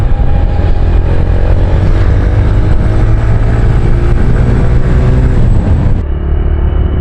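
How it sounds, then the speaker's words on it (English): A TVS Raider motorcycle engine revs with the throttle twisted, a loud steady close-up roar that rises slightly in pitch and holds before dropping off sharply near the end. "I just feel like twisting the throttle on this thing just so I could hear"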